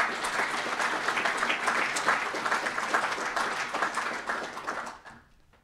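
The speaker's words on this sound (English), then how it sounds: "So another round of applause for them." Audience applause at a conference fills the room steadily and loudly, a dense wash of many hands clapping that tapers away in the final second.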